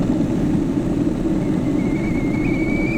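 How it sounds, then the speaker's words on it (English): Kettle bringing water to the boil: a steady low rumble of heating and bubbling fills the clip, and a thin rising whistle emerges about halfway through and holds, growing steadier toward the end, with no talking. "The kettle is whistling."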